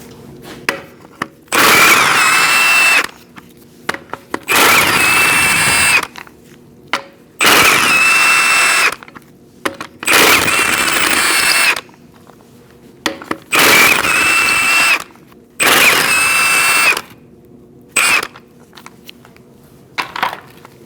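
An impact or power tool with a 19mm socket spins off the lug nuts on a 2004-2012 Chevrolet Colorado truck wheel: six loud, close bursts of rattling whir, each one to two seconds long, separated by short silences and small clinks.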